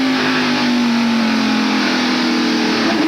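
A NASCAR stock car at the 1993 Hanes 500 accelerates hard on the track, its engine roaring loud and close in a steady, slightly rising drone throughout, with no talk.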